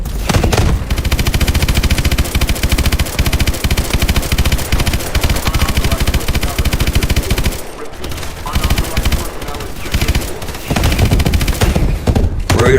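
Sustained rapid automatic gunfire from Call of Duty: Advanced Warfare, loud and dense with near-continuous bursts, briefly thinning around the middle before the shooting resumes at full intensity.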